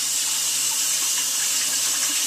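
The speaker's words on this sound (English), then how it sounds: "Let me just rinse my hands off again." Hands are rinsed under a running kitchen tap, a steady, close hiss of flowing water with no pause throughout.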